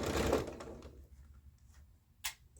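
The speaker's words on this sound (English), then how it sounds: "you have to stay stitch at the neck" A sewing machine stay stitching the neckline of a garment with a crisscross overlap front runs in a short, close burst of rapid stitching, then falls quiet apart from faint ticks and one brief later click.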